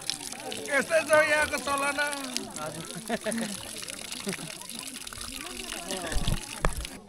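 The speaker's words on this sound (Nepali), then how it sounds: "यो चाहिँ ट्रेडिसनल धारा हो यो" Water gushing and splashing from a traditional stone village water spout used for hand washing, a steady flow beneath nearby talk and laughter, with a few heavier splashes near the end.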